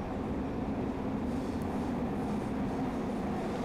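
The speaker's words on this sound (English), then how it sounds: "We've downgraded to a steam train." A steam train rumbling along in a continuous, low, even roar, heard steadily at moderate level without talk or distinct whistles.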